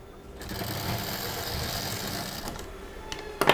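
A sewing machine stitches the fabric lining of a small handbag, a close, continuous motor hum with a rapid needle chatter that eases off before a few sharp clicks at the end.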